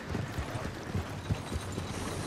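Horse hooves clip-clopping at a steady walking pace in the Red Dead Redemption 2 video game, a regular run of soft close thuds over a low ambient backdrop.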